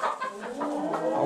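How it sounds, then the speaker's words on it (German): Chickens in a coop with newly added hens settling the pecking order cluck loudly and agitatedly at close range, several overlapping calls in a continuous squabbling stream. "ich habe auf alle Fälle ein paar neue Hühner hier drin"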